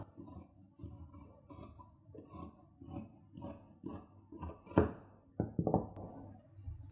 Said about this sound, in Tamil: இப்போ ஹார்ம் ஹோல் வந்து நம்ம கட் பண்ணி எடுத்துடலாம்